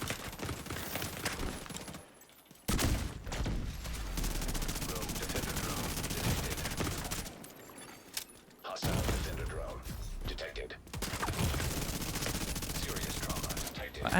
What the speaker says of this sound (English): Dude just starts shooting me in the back?